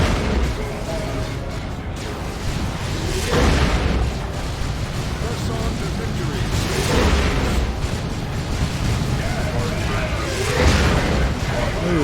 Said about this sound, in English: That las cannon retargets towards it. Another direct hit there.